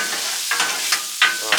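Bacon fries on a Blackstone griddle in a steady close sizzle, broken by several scraping strokes of a spatula across the flat-top.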